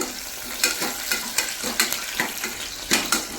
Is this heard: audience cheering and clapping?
no